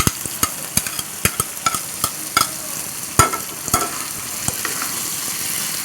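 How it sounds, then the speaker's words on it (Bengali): Pre-fried potatoes tossed with pointed gourd in hot oil, a bed of frying sizzle broken by a rapid series of sharp spatula clacks against the pan, close and alone. "আলুগুলো দিয়ে একটু তেলের সাথে ভেজে নেব।"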